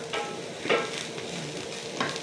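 Soft, steady sizzling of aku frying in a pan without oil, with occasional scraping stirs and faint pops, close by and without talking.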